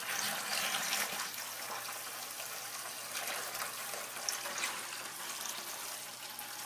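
Dirty water siphoned from a tilapia breeding tank pours steadily into a bucket, making a faint, continuous gushing splash with no voices.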